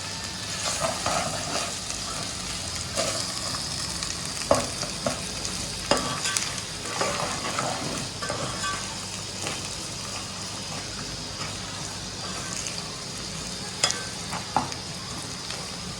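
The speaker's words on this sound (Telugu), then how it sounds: "ఎల్లిపాయ కారం మనం వేసుకున్న వెంటనే మళ్ళీ స్పూన్ అట్టుకుని కలుపుకోవాలి మంచిగా" A spoon stirs crushed garlic and chili powder in a pan, scraping the bottom with repeated clinks and scrapes over a constant soft sizzle, no voices.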